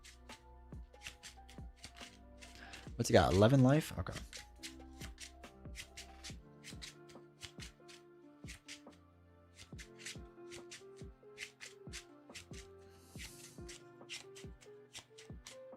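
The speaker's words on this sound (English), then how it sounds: "Shuffle all this up." A deck of game cards is shuffled in a short, dense riffle burst near the start, followed by lighter card handling and taps while a person talks quietly at intervals.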